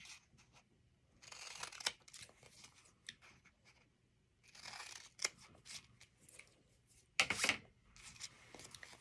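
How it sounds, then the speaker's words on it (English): Scissors snipping apart paper stencils for a tiered tray craft kit, a series of short crisp cutting bursts with quiet paper rustling between, close and alone without talk. "we're going to cut apart our stencils"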